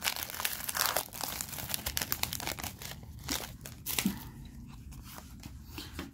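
A Pokémon card booster pack from the Alliance Infaillible set being torn open, with crinkly plastic foil wrapper crumpling and tearing in close, irregular bursts over several seconds, no talking.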